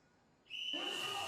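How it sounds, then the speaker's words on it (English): A referee's whistle blasts to start a drone soccer match in an indoor arena, one sustained shrill tone that enters suddenly and holds loud to the end after a quiet lead-in. "After the referee blows the whistle"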